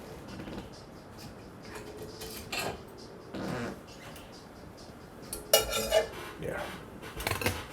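A whisk clatters in a metal bowl in a home kitchen, with scattered metallic clinks and rattles and a louder burst of scraping near the end.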